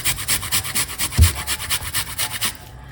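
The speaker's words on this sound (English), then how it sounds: "we're going to grate a nice piece of a ginger into it, just like this." A piece of fresh ginger being grated for ginger and clove tea, close up: a quick series of about a dozen rhythmic raspy rubbing strokes, evenly paced, alone without talk, with a soft knock partway through.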